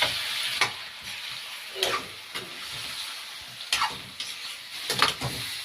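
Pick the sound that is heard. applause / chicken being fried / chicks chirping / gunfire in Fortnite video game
chicken being fried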